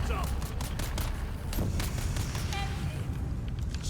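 Rapid gunfire crackles in the Dune: Awakening video game, bursts of shots spread across the clip over a dense, loud game soundscape with a voice talking underneath.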